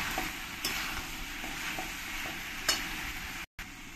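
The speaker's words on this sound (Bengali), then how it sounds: "চিনিটা দিয়ে সব কিছুর সঙ্গে মিশিয়ে নিতে হবে।" A spoon stirs kabuli chickpeas with sugar and spices in a hot pan, soft repeated scraping strokes over a low steady sizzle, close up and without talk.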